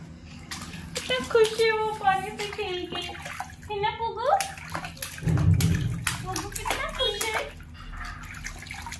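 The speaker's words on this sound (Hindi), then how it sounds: "आज पोगो को मैं नहला रही हूँ" Water splashes and sloshes while someone is being bathed, with soft sloshing and dripping mixed under nearly continuous nearby voices talking.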